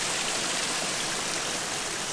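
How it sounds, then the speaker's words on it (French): A small stream flows in the open countryside near a little bridge, giving a steady, broad rushing hiss that stays even and continuous throughout with no voices over it. "un petit ruisseau."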